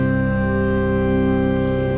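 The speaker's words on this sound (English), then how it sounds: "Our organ makes beautiful sounds" A single sustained pipe organ note, rich and steady, holding at an even volume throughout.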